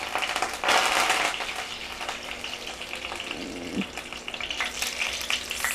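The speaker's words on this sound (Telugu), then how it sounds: "నువ్వుల నూనె కాగుతుంటే మంచి వాసన వస్తుంది కదా. ఏమైంది, ఆవాలు వేగినాయండి" Mustard seeds frying and popping in hot sesame oil for a tomato pickle: steady loud sizzle with crackling pops, close by, without talk.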